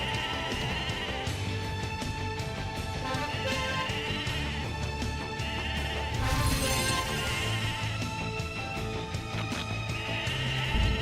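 Sheep bleat repeatedly during shearing in the online game Mabinogi, steady game-style calls layered over constant background music and ambience, moderately loud throughout with no talking.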